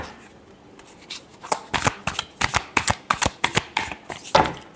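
Tarot cards are shuffled by hand close up, a quick run of crisp papery riffles and snaps that starts soft and builds into a rhythmic burst of about a dozen sharp flutters.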